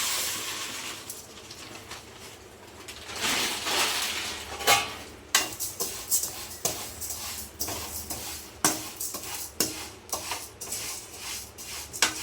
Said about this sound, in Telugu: ఇప్పుడైతే అది నెయ్యి పోసుకొని సేమియా వేయించుకుందాం